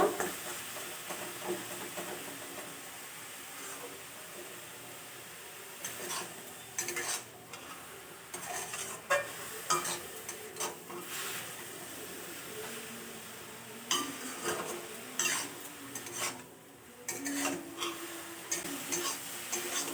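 Carrots being stirred in a pan on the stove to dry off their water, making soft scraping and clinking of a utensil against the pan with faint sizzling, intermittent knocks over a low steady background.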